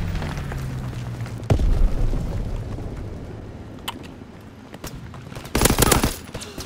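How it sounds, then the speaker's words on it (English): Strafing-run gunfire in the World War II shooter game Call of Duty: WWII, with a sharp blast, ongoing rumbling battle noise and a loud burst of rapid fire near the end. "Strafing run inbound."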